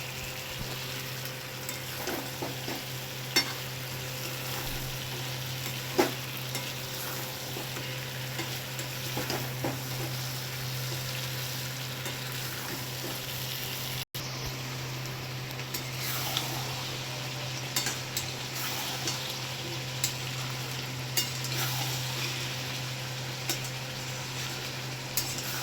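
Chicken curry sautéing with a few whole garlic cloves in a pan over a home stove, producing a low, steady sizzle with faint occasional stirring taps and clinks, no speech.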